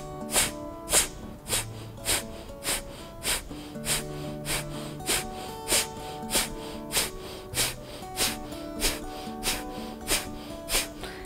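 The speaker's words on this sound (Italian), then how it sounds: "facciamo un ciclo di Kapalabhati di espirazione energica" A steady run of about twenty forceful Kapalabhati yoga exhalations, sharp breathy nasal puffs roughly twice a second, loud and close over soft sustained background music with no talking.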